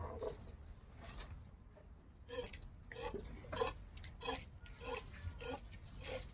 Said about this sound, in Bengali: এই যে মা শাক কাটতেছে।